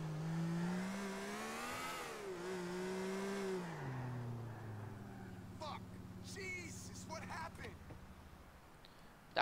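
A car engine revs and climbs in pitch, then winds down and idles, with someone talking over the later part, in the video game GTA IV.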